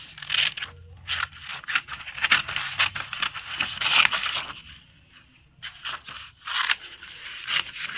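Scissors cut through paper along a black outline, producing soft rhythmic snips and scraping rustles in irregular bursts, fairly quiet and close, with a short lull partway through.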